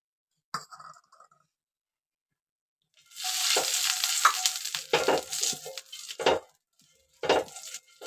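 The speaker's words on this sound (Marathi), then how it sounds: "तेल लावून द्यायचं चांगलं बीड चांगलं तापायला द्यायचं हे बघा बिड तापतंय" Oil sizzles in a hot cast-iron pan on a home stove in bursts of sharp, crackling hiss, loud and close, separated by short quiet gaps, with a faint clink near the start.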